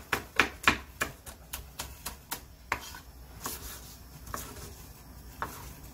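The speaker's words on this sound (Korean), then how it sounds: "청양고추 두 개를 쫑쫑쫑 썰어주고요" A knife chops two Cheongyang chili peppers against a cutting board in a quick, even run of crisp taps. The taps slow and thin out toward the end, close and alone with no talk.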